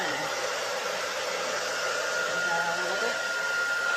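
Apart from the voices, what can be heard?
blow dryer drying paint on canvas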